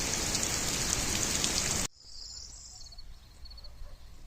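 Heavy rain hisses loudly at an apiary in the Carpathians at first, then abruptly drops to a quieter patter with faint chirping in the background.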